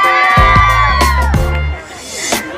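A runners-up team at a Women's Day celebration lets out a loud, sustained group cheer, voices whooping together close up for a couple of seconds before fading.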